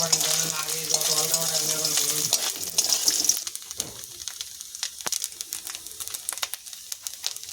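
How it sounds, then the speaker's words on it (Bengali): Grated coconut frying in oil until reddish, sizzling loudly with a faint voice at the start, then quieter crackles and sharp scraping clicks of stirring. "লাল লাল করে ভেজে নিয়েছি"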